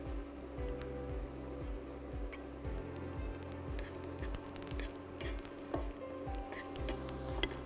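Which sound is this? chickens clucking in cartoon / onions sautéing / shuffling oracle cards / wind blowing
onions sautéing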